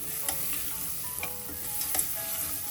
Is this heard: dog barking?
no